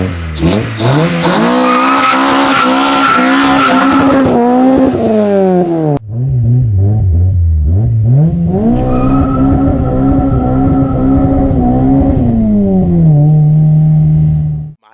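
A B20B-engined car swerves hard in front of the stack, its engine note rising and falling through revs while the tires squeal loudly for nearly the whole stretch, briefly dipping midway.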